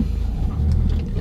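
Subaru car engine idling in a steady low rumble, close and constant, with a slight swell partway through and no talk over it.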